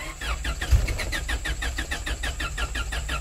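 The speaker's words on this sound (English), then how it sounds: "I can't start the car" A Honda Civic engine cranks repeatedly with a rapid, rhythmic whirring from the starter, never catching, close by and steady, blocked by an anti-theft lock.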